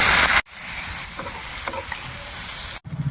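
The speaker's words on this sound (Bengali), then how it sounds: "পেঁয়াজ আর টমেটোটা আমি তেলের মধ্যে দিয়ে দিচ্ছি।" Onion and tomato frying in oil for a prawn curry: a loud, close, continuous sizzle with occasional stirring clicks, cut briefly near the start and end.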